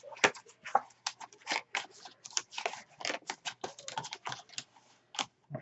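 Scissors cut crafting paper close by in quick, crisp snips and rustles, coming in irregular bursts with brief pauses between them.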